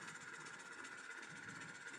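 A Heljan BR Class diesel model locomotive plays its engine sound through an upgraded speaker, a faint, steady idling rumble with a slight rhythmic throb and no talk.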